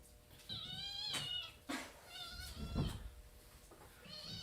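A cat meows repeatedly, several drawn-out, rising and falling cries close by with short pauses between them, no talking.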